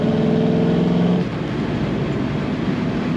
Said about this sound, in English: Just love the sound coming out the back of this car.